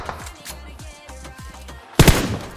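Gunfire in PUBG Mobile: a run of rapid distant shots crackles through the first two seconds, then a loud close burst erupts near the end.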